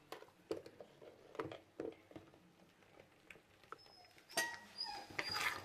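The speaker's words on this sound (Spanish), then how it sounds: "¿Veis este perro? Se cree que es su papi." A dog whimpers and yips softly in a home kitchen while spaghetti is being cooked, thin high cries scattered over several seconds amid light clatter and patter, with no speech.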